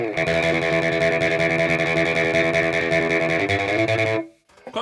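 A Decision Telow, a Telecaster-style electric guitar played through distortion effects with no reverb, holds a loud, sustained chord that rings steadily for about four seconds, then cuts off abruptly.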